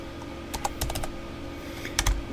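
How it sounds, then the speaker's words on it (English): Typing on a computer keyboard, close and fairly quiet, in two short bursts of several quick clicks each over a low steady hum, no voices. "But if you just start typing"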